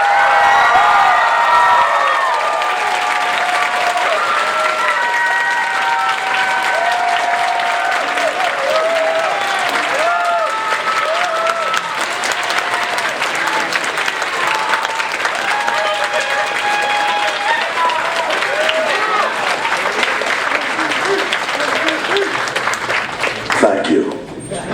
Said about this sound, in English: Please give a warm applause for Mr.